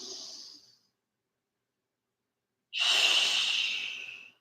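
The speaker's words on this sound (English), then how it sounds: "Down dog. 3 deep breaths." Deep breaths during a yoga down dog pose: a close, airy exhale trailing off, a short silence, then another strong, hissing breath that lasts over a second before easing.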